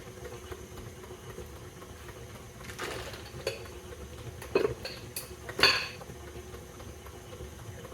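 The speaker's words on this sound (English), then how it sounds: "give it a good mix" Chocolate chip cookie dough being mixed in a bowl, a few scattered clinks and scrapes of a utensil against the bowl over a steady low background hum, faint and intermittent.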